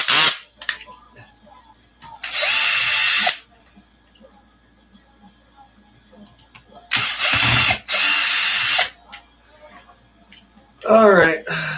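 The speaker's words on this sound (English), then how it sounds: "drill" Power drill whirring in short bursts during an ARRMA RC car repair, three loud runs of a few seconds each with quiet gaps between, a brief rattling whine at the end.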